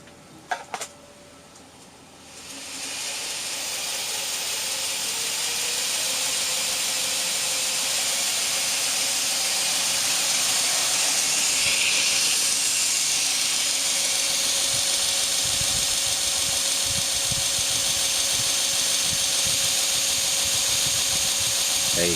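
A 2x72 belt grinder with a newly fitted motor spins up after a quiet start, then holds a loud, steady whirring hiss with a constant high whine that runs continuously to the end.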